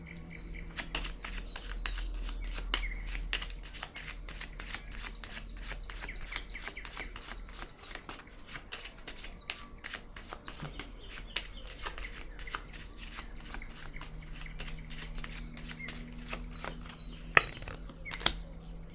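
Tarot cards shuffled by hand in a rapid, steady stream of crisp close slaps and riffles lasting throughout, fairly quiet with no talk.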